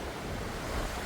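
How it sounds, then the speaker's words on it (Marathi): Sea waves wash over a rocky beach at Khavane in Konkan, a brief, steady roar of surf with wind noise and no voices. "बाहेर नुसतं पाण्याचा आवाज आहे का"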